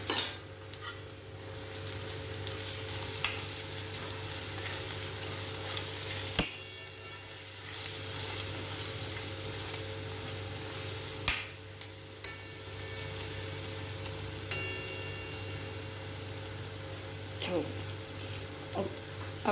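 Chili powder, coriander-cumin and other spices cook in a pan for a Gujarati sev onion curry, giving a continuous close sizzle with occasional sharp taps and scrapes of a spoon against the pan.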